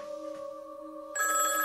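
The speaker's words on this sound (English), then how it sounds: "A seemingly ordinary payphone that's been ringing for 27 years." An old payphone in a small town rings with an electronic telephone bell. A steady tonal hum comes first, then the bright, buzzing ring sets in partway through. It sounds close and continuous, with no voices.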